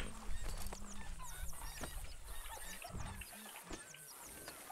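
Horse in the video game Red Dead Redemption 2, with soft clip-clop hoof steps and snorting close by over a busy game soundscape of birds and ambience, with someone talking.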